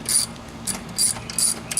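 A hand ratchet loosening a bolt on a Jeep Wrangler, quick clicking bursts of the pawl repeating in short strokes, close and fairly loud with no talking.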